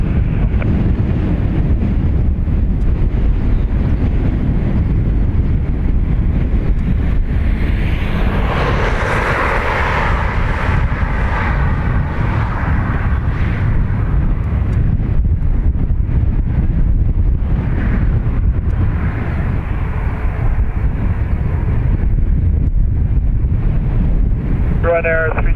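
Strong wind roaring across a microphone at Dublin Airport, a loud continuous low rumble throughout with the faint swell of a jet passing partway through.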